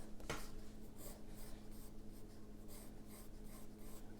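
Pencil drawing and darkening lines of a belt pattern on paper, a faint steady scratching with rhythmic strokes, close and quiet, no speech.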